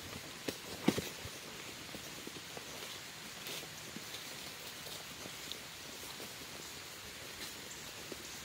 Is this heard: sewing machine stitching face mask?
no